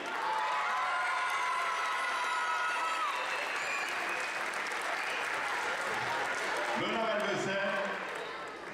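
An audience gives sustained, dense applause for a fencing club at a mixed team foil event in Melun. The clapping is steady and moderately loud throughout, with a few voices mixed in near the end.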